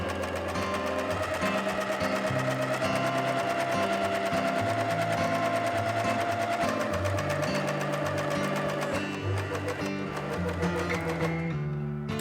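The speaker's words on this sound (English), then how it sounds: "the silk nick was so stretchy that it was easier to use my cover stitch machine" A cover stitch machine sews a hem on stretchy silk knit, running as a steady, fast mechanical whir with rapid needle pulses that continue unbroken from start to finish.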